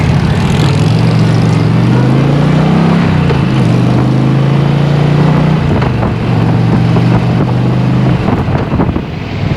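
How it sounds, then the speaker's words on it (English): A 2022 Indian Challenger Dark Horse motorcycle engine runs with a steady, deep drone that rises and eases slightly, heavily mixed with wind buffeting across the whole stretch. "But here's what the bike sounds like."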